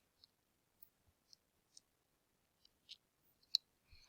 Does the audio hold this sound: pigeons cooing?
no